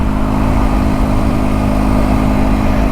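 A Triumph Scrambler 400 X single-cylinder motorcycle engine runs at steady cruising speed, a constant loud low drone mixed with wind rush, no breaks across the stretch.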